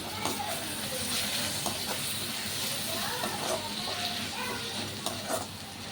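Onions and tomatoes sautéing in a pan for kothu parotta, a steady close sizzle with scraping stirs of a spatula throughout, continuous and fairly loud with no talk.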